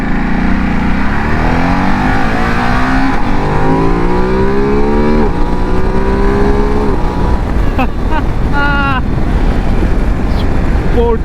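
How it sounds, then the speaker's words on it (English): A 2023 Ducati DesertX adventure motorcycle pulls hard through the gears, engine pitch rising and dropping with each shift, loud and close with wind noise throughout. "it's time to do our second test, the pull test. We'll see how this puppy pulls"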